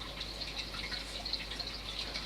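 Water treatment liquid trickles from a capful into a 240-litre Rio aquarium tank, a faint, steady watery splash and drip with no talking.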